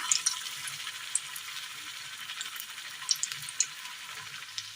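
Balls of sweet jaggery-filled dough for a Kerala snack frying in hot oil, giving a steady, fairly quiet high sizzle with a few sharper pops and crackles scattered through it and no voices.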